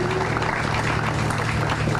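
A crowd applauds members of the police force, a dense, even clatter of many hands clapping continuously over a low steady hum.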